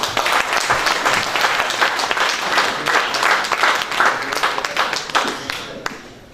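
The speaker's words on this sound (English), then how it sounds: "A round of applause for all of you." Audience applause fills a district event hall, dense, steady clapping from a large crowd that holds for several seconds and then thins out near the end.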